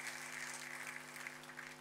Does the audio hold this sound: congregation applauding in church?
yes